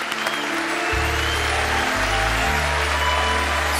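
Audience applause for a musician on a televised music show, a steady wash of clapping under loud sustained low instrumental notes, with no voices heard.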